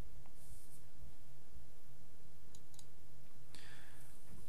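A computer mouse clicks a software Go button, producing a couple of small, crisp clicks close by over a constant low background hum.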